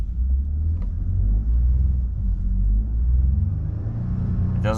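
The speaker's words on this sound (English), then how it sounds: "Let's rev it here." A 2023 Ford F-150 PowerBoost hybrid engine revs up from idle, a loud, low, steady rumble with mild swells in pitch that never climbs high, heard up close.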